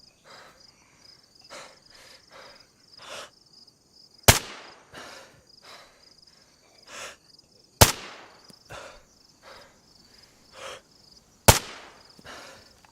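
Three sharp, loud gunshots from a weapon fired at zombies in a video game ring out several seconds apart, over steady rhythmic insect-like chirping ambience.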